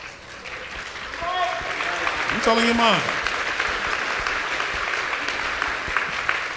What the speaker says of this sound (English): there's less applause on that because some people don't agree with that